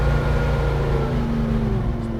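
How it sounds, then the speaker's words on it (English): A 1967 Chevrolet Chevelle engine idles steadily through its exhaust, a loud, close, continuous low rumble with a smooth, even drone throughout. "Love the sound of the exhaust on this car."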